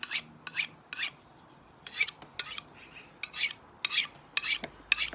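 A flat-ground knife blade drawn across sharpening rods in a series of short, crisp rasping strokes, about a dozen close swipes with brief pauses between them and no talking.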